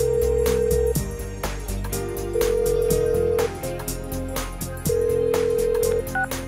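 Electronic phone ringing tones in Persona 4 Golden repeat in a steady pattern, clear and fairly loud, with short beeping pulses between rings and no talking.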